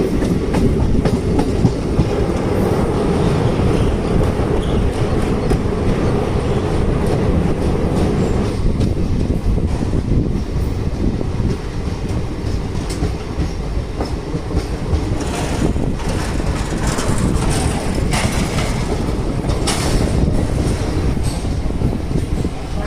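Inside a coach of the moving Janmabhoomi Express train, a loud, continuous rumble carries rhythmic wheel clatter and occasional squeals throughout, with no talking.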